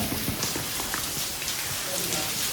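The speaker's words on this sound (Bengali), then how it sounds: "এত জোরে বৃষ্টি হচ্ছে এখানে" Heavy monsoon rain in Meghalaya pours steadily, a dense hiss of drops pattering loudly on surfaces all around.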